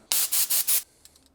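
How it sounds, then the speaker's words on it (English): Compressed air blasts through a brand new pipe on a BMW E39 530i Touring during an overhaul: four loud, close hissing bursts in quick succession, then a few faint short puffs. "Brand new pipe. Gonna blow it out, compressed air"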